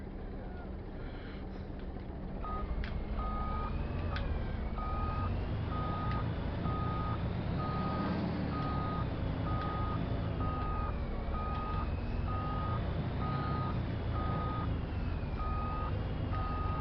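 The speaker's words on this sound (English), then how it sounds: "I think I got room to back this trailer into there." A truck backs a trailer into place in Farming Simulator 25, its reversing alarm beeping in a steady, evenly spaced rhythm over a loud, continuous engine rumble, with someone talking over it.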